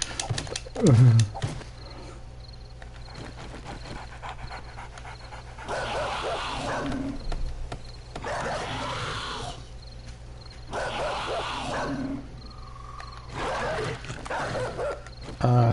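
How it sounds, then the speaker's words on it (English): Three dogs in the survival game 7 Days To Die on PS4 give several separate bursts of barking and growling over a low, steady game background, with no talk. "Oh, and there's lots of doggies. 3 of them."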